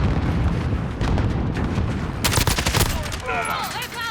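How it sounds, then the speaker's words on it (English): Gunfire in Modern Warfare 2, a dense fusillade of rapid game-weapon shots with a louder burst near the end, set in a busy battle mix with radio-style voices. "Oh, I'm taking fire."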